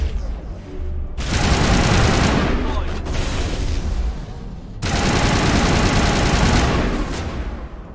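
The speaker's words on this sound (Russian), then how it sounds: "Кто стреляет?" Sustained automatic gunfire from the video game Mass Effect 1 Legendary Edition, two long loud bursts of rapid fire separated by a short lull with a few sharp cracks, ending in a fading tail.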